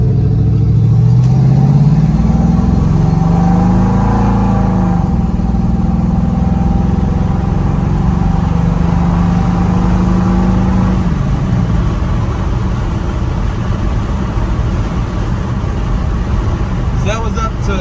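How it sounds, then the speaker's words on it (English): A 1987 Chevrolet C10 short-bed pickup with throttle-body fuel injection accelerates on a highway toward 70 mph, its engine droning loud and steady with rising pitch, heard from inside the cab. "We'll get up on the highway here for y'all and get it up to kind of 70, 75, so you can see its furious TBI power."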